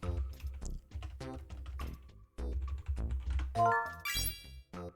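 Rapid clacking keystrokes on a computer keyboard during an online word game, close and crisp in bursts, with some vocal sounds mixed in.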